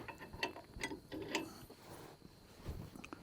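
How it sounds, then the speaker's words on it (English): A hand tool is ratcheted down on a ball joint, giving a few close, quiet metallic clicks and creaks in an uneven rhythm over about three seconds. "I can just start cranking this down and you'll see this close the gap"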